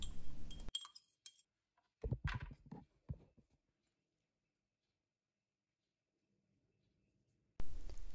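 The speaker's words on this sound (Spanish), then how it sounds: "Lo ponéis en un vaso y con unas tijeras lo vais cortando" Kitchen scissors snip fresh parsley inside a drinking glass, giving a short cluster of crisp snips with glassy clinks. Quiet gaps fall between bursts of clatter at the start and end.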